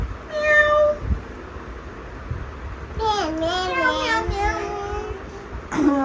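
A voice imitates a cat's meow, several drawn-out mewing cries following a brief adult voice.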